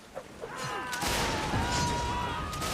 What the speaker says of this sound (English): Explosion just missing Hippie.